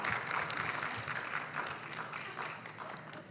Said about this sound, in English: Yes, yes, please give her a round of applause,